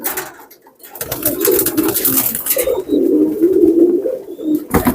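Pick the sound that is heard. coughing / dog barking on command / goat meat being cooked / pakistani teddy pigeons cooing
pakistani teddy pigeons cooing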